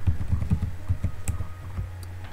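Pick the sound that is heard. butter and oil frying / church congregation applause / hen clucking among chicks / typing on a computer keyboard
typing on a computer keyboard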